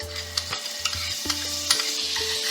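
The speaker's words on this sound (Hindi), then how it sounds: "इस तरह से कढ़ाई में मैं बचा हुआ बटर ऐड करूंगी" Butter melts and sizzles in a kadhai while butter chicken gravy is prepared, giving a steady crackling fry with repeated scraping stirs of a utensil against the pan, close and with no voices.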